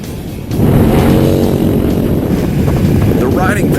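Engine roar of a 2012 Harley-Davidson Switchback with its big 103 V-twin, rising sharply after half a second into a loud steady drone with wind buffeting while riding; no talk.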